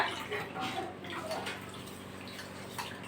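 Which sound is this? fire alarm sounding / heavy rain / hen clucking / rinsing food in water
rinsing food in water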